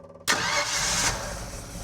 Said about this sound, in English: We're going to start this 302 up so you can hear it run.